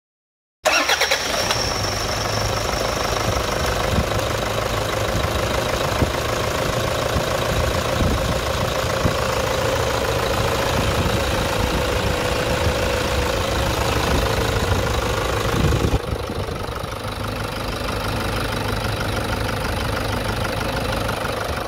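A Toyota Hilux 3.0 diesel engine, with dirt from the fuel tank having damaged its intake manifold, starts and idles with a steady, loud, close clatter that drops slightly in level toward the end.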